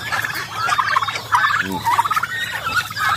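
Hungry chicks peep and cry continuously in a dense, high-pitched chorus of overlapping chirps, close and fairly loud.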